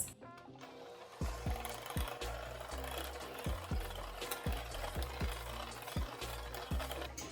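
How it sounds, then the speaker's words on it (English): Electric hand mixer whisking brown sugar and eggs in a bowl, a steady mechanical whir with repeated knocking clicks as the beaters hit the bowl, close and alone after a brief quiet start. "Using a hand mixer, I'm just going to whisk these ingredients."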